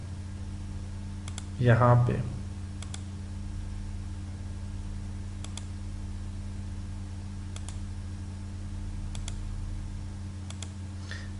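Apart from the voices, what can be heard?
computer mouse clicks while drawing in CorelDraw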